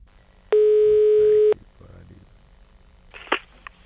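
A telephone being dialed for a prank call, a steady one-second tone followed by brief dialing beeps and faint clicks, near and clear.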